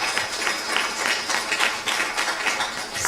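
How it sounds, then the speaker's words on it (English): Applause from a temple gathering at an ISKCON Sunday feast in Phoenix, a steady wash of many hands clapping together, fairly loud and continuous throughout. "please give him a big round of applause"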